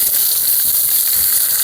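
Chicken and fish frying over a gas stove at a hillside campsite produce a loud, steady, close sizzle and hiss with no voices, cutting off abruptly at the end.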